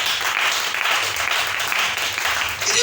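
A church congregation applauding, a sustained dense wash of many hands clapping together, steady and fairly loud throughout.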